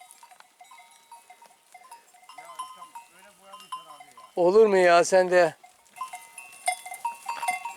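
A single loud, wavering goat bleat close by, set among quiet farmyard noise and a short stretch of soft speech beforehand.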